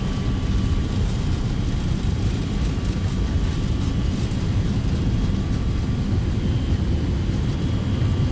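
Boeing 757-300 engines spooling at takeoff thrust in a flight simulator, a loud, steady broadband roar with a faint high whine, continuous and unbroken throughout.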